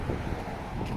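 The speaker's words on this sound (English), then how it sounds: "it appears that Agricola's got a little more wind over here than" Wind blowing down Agricola Street, a city street between Downtown and the North End, a steady low rumble of gusts buffeting the microphone with faint traffic beneath.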